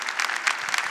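A church congregation claps in a brief, dense burst of many hands, fairly close and lively, with no voices standing out.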